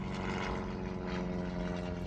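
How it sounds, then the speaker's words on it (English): A helicopter passing at a distance, a steady broadband rotor and engine drone holding at an even level throughout, with no voices. "now we have a helicopter passing by"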